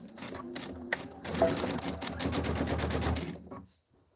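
A sewing machine stitches quilt borders in two runs: a short burst of rapid needle clatter, a brief pause, then a longer continuous stretch before the motor stops and everything goes quiet.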